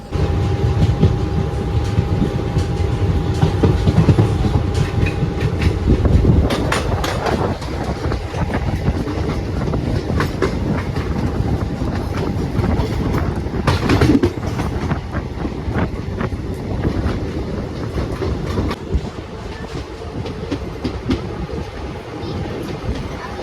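Yelagiri Express passenger train running on rails between Jolarpattai and Chennai, a loud continuous rumble with clattering wheel beats heard from inside a crowded coach.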